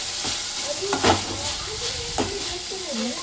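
Cauliflower tossed with turmeric and salt sizzles in a hot pan, a soft continuous fry with a few sharp stirring scrapes, quiet and close.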